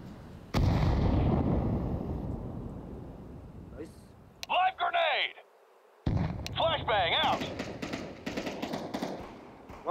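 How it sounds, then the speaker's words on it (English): A grenade blast and gunfire in the video game Counter-Strike 2, with a loud sudden boom and a long rumbling decay, followed by sharp bursts, while a voice talks over the action. "Grenade out."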